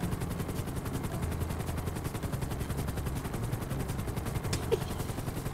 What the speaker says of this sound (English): We have a helicopter flying down 68 about 10 feet off the ground